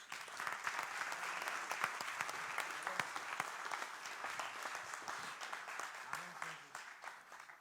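A church congregation claps along steadily in a dense, continuous wash of hand claps throughout, with no voices standing out above it.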